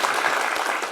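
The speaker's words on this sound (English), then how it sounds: "save your applause for the end, please" A brief, loud wash of audience applause at the BazelCon 2022 conference, many hands clapping at once in a dense, continuous patter lasting about a second.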